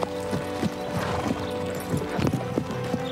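Horse hooves clip-clop in a steady, moderately fast rhythm with some background music or noise, the hoofbeats close and distinct, and a faint whinny may come through.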